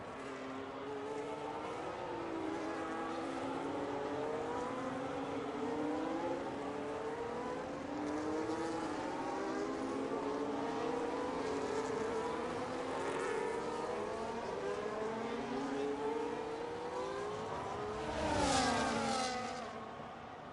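F1 race car engines in a racing video game, a league race in Mexico, with several high-revving engines whining and shifting pitch up and down continuously, one car's engine sweeping loudly past near the end.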